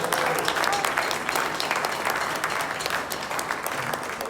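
An audience at a blues band competition round applauds loudly and steadily throughout, a dense wash of clapping with a few cheers mixed in.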